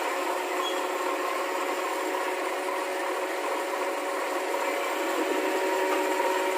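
A repaired Toyota Corolla engine, fixed after a loud clicking fault, runs in a steady, even drone with no clear clicks, close and continuous for the whole stretch.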